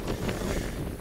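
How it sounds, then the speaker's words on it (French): Strong storm wind gusts roar and buffet the microphone in a continuous, loud, rough low rumble with no other sounds. "Oh là là, gros vent."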